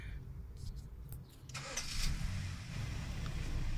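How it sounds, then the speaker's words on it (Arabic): A car engine cranks and starts, a brief whir followed by a low steady idle that settles in close by, with no one speaking. "هسه تشتغل السياره"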